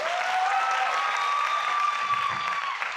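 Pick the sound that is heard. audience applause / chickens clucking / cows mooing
audience applause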